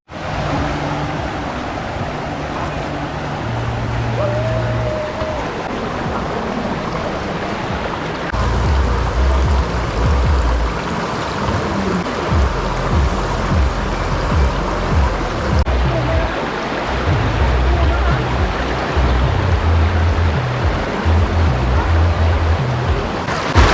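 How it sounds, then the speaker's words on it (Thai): Water flowing along a stream at a riverside campsite near Cha-om in Saraburi, Thailand, a steady broadband rush close by that continues without pause, with faint low rumbles underneath. "เดี๋ยวเราจะพาไปดูบรรยากาศของริมลำธารของเขาบ้างนะฮะ"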